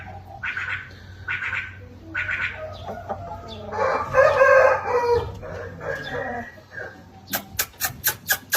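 A rooster calls out in several crows in the middle, and other fowl cluck and squawk nearby. Sharp repeated taps or knocks follow at the end.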